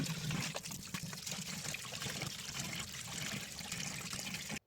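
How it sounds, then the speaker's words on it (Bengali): Tap water runs steadily while raw prawns are washed clean in a home kitchen, a continuous close splashing trickle with no voices. "চিংড়ি মাছ কেটে বেছে ভালোভাবে ধুয়ে পরিষ্কার করে নিলাম"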